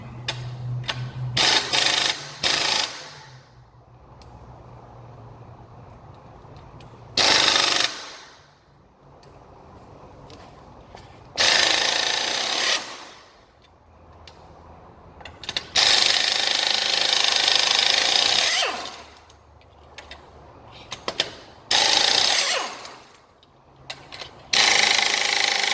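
Bursts from a power tool loosening lug nuts to take the wheel and tire off a Dodge Challenger Scat Pack, loud buzzing rattles lasting a second or several seconds each, separated by quiet pauses.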